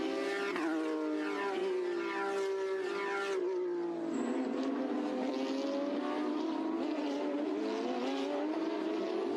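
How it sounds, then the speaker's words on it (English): Porsche Carrera Cup race cars pass at the Zhuhai circuit: a loud, sustained engine howl whose pitch drops as the field goes by, with a further wave of engines following. "Then it's Lin Kong and the rest of the field going through."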